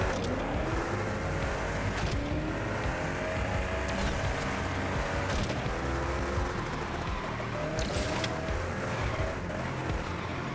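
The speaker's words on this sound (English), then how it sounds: "All right, so that is a punch drift" Koenigsegg Jesko Absolut in the Asphalt racing video game performing a punch drift, a loud, sustained engine roar with tire screech and shifting pitch, broken by brief sharp bursts.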